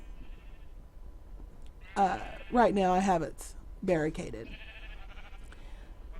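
Sheep in a video game bleat in a few wavering calls, two long and one shorter, fairly close, while someone talks quietly over a faint background hum.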